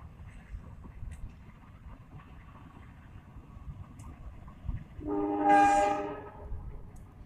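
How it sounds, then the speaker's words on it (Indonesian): A CC 203 diesel locomotive passes through Cibatu station, a steady low rumble of wheels and engine building to a loud, sustained horn blast for about a second near the end, with no talk. "Menggunakan lokomotif CC 203."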